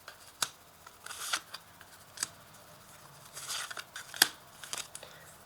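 Tarot cards laid out on a table one at a time, giving a few soft, crisp card snaps and papery slides spaced apart, quiet and close with no talking.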